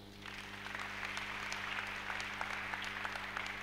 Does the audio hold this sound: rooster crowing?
no